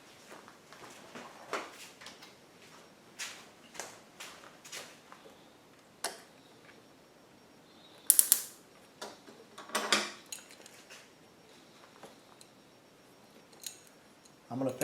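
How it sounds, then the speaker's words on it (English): A hose clamp is fitted onto the fuel hose at a T-fitting of an Onan P2500i generator, heard as scattered close metallic clicks and snips with a louder rattling burst midway. "I'm going to go ahead and put a hose clamp there too."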